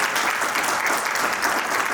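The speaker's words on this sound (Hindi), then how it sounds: "ऐसी हमारी दीदी के लिए मैं चाहूंगा एक बार और जोरदार तालियों से स्वागत।" Audience applause welcoming a guest at a Vivekanand Kendra community event, a dense, steady clapping from a crowd that fills the whole moment without pause.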